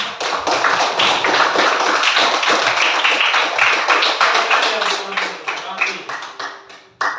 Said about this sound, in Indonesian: Tepuk tangan dulu kelompok 3.